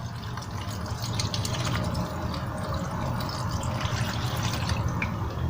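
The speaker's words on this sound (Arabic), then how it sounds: "هنزل بقى ببقيه المحلول بتاعي اهو." Pickling brine pours steadily into a jar of onions, giving a continuous close splashing and trickling sound with small drips over a low hum.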